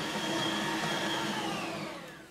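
A kitchen machine runs steadily, kneading a soft, elastic milk-bread dough for raisin buns. The motor drone is continuous and fairly close, then eases slightly at the end, with no voices.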